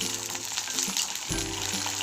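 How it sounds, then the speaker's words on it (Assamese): Green peas and garlic cloves fry in hot oil in a kadai, a steady close sizzle and crackle with a brief stir partway through. "তেল গৰম কৰি পেলাই তাতে ভাজি লওঁ।"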